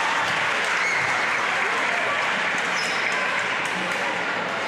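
Home crowd at a girls' varsity volleyball match in a gym reacts to an overturned line call with a loud, sustained roar and applause that stays steady throughout.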